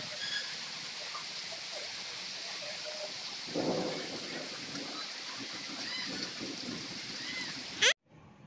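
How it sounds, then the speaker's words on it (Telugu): Steady rain falls in Eluru on a Friday evening with a soft low rumble of thunder partway through, heard alone at moderate distance before a sharp click ends it. "ఇంకా వర్షమైతే ఫుల్‌గా వర్షం పడుతుంది"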